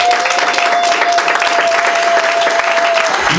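Guests at a civil wedding ceremony applaud loudly for the bride's witness, a steady dense burst of clapping lasting a few seconds, with a faint sustained tone running beneath it.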